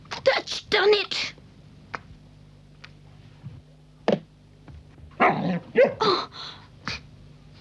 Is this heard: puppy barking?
yes